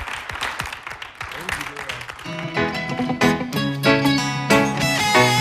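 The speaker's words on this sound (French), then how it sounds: "On va l'applaudir très fort" A live French stage audience applauds a performer coming on, a dense patter of clapping for about two seconds before music swells up and takes over.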